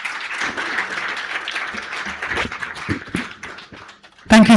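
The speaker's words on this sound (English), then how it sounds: "big round of applause." A conference audience at a women's awards event breaks into sustained applause, dense steady clapping filling the room, ending abruptly as a sharp, louder sound cuts in at the close.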